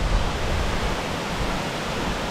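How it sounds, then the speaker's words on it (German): A waterfall at a mountain pass roars steadily and close, a dense unbroken rush of falling water with no voices over it. "Ein traumhafter Wasserfall."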